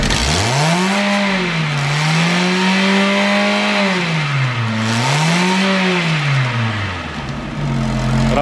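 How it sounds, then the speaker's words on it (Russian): 2003 Ford Focus 2.0-litre petrol engine revved repeatedly to high RPM, pitch climbing and falling in several loud surges, close and unaccompanied. "Работа двигателя на высоких оборотах"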